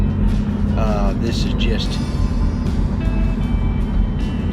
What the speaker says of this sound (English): I'm testing the van out to see how it's going to behave.